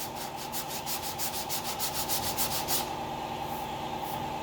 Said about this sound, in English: forcing the sandpaper to only go in one direction. See, right now it can only sand up.